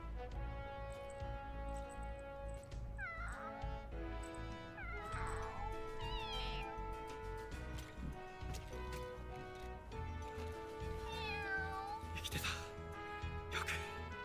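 A cat meows and caterwauls repeatedly through a scene over steady music, with bursts of plaintive cries spaced a few seconds apart.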